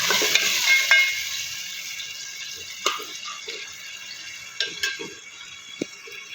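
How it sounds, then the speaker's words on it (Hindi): Onion with ginger-garlic paste sizzles and fries in a pan for an aloo methi dish, a steady close hiss broken by occasional stirring scrapes and clinks. "लहसुन को भी अच्छी तरह से भून लिया हमने।"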